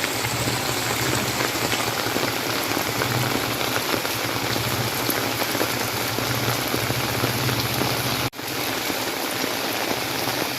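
Steady rain falls in the Philippines during the rainy season, a dense, close hiss of drops on surfaces with a faint low hum underneath, briefly cut off near the end.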